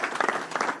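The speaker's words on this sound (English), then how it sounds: "So we want to give her a round of applause." An audience at a free school kickoff event with Governor Healey applauds for Erin McAleer, a brief burst of crowd clapping, moderately loud and close.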